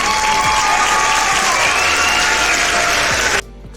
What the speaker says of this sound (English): We'll play an applause.